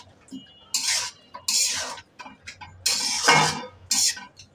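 A lid set over a cooking pot in a home kitchen: a series of metallic clanks and scraping clatters, several separate bursts of close, fairly loud rattling with short pauses between.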